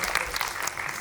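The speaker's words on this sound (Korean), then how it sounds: "사장님들께 박수 한 번만 저희가 지금 드려도 좋을 것 같다" Audience applause at a Korean film talk event for the movie 3670, a dense, steady wash of many hands clapping throughout, fairly loud with no voices standing out.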